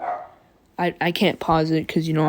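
A dog barks in the background, several sharp barks under and between a person's speech, following a quieter stretch of faint sound at the start.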